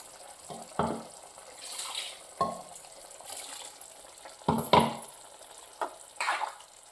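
Spicy okra gravy is stirred in a pan, a series of irregular scraping and splashing strokes against the metal, close and moderately loud, with quiet gaps between them.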